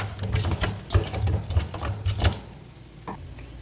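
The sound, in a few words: pounding masala spices with a wooden stick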